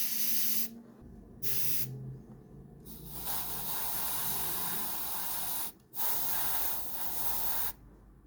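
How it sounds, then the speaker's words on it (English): An airbrush or spray can hisses dark grey paint onto masked panels of an AMT Havoc Marauder model kit. It comes as several steady bursts of a few seconds each, separated by short silent pauses. "so carefully just spraying these darker grey"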